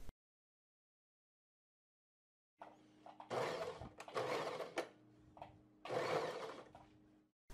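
A sewing machine edge stitching along a seam line on a pocket bag; silence first, then bursts of fast mechanical whirring and clatter that start and stop, with a faint hum between runs.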